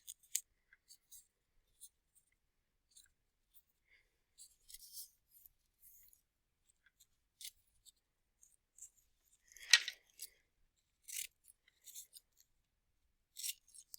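Scissors snip through colored paper, cutting it into small mosaic pieces for a sun craft; short crisp cuts come in irregular bursts, close and fairly quiet, with one louder snip near the middle.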